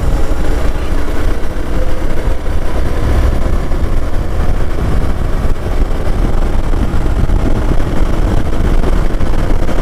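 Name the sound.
Hero Xpulse 200 4V motorcycle engine revving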